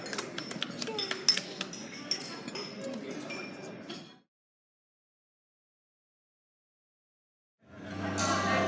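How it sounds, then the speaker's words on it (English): Glasses chink together during a wedding toast, a cluster of bright clinks over a crowd of voices for about four seconds, then silence before the chatter returns. "let's all raise a glass to Ryan and Brian"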